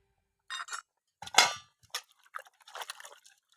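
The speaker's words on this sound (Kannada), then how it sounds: "ಆಲೂಗೆಡ್ಡೆ ಹಾಕ್ತಾ ಇದ್ದೀನಿ." Potato pieces clink and clatter as they drop into a steel pot of thogarikalu sambar, a few separate bursts of knocks and scrapes over a few seconds, close and moderately loud with no voices.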